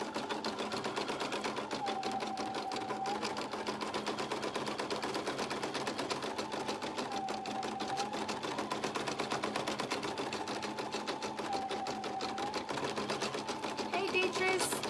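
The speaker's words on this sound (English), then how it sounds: "Now we are top stitching the anchor." A sewing machine top stitches an anchor applique onto a burp cloth with a single needle, its rapid steady needle chatter running continuously and close throughout, while a person talks over it.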